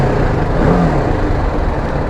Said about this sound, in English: Exhaust not bad for a single cylinder